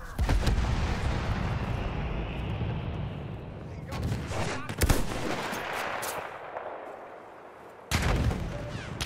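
Heavy gunfire and explosions in Battlefield 1 online combat, shotgun blasts among loud bursts and booming impacts, with sharp cracks near the middle and end, under voices talking.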